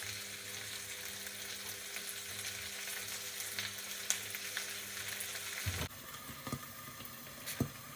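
Zucchini sautés in a pan with a soft, fairly quiet sizzle and occasional stirring taps. The texture shifts near the end as the pan settles into a lighter crackle with a few sharp clicks.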